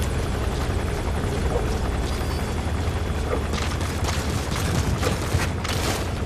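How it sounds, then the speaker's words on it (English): A helicopter in the video game Metal Gear Solid V: The Phantom Pain drones steadily overhead, its rotor hum constant, with a few louder bursts layered in toward the end. "the helicopter might see it."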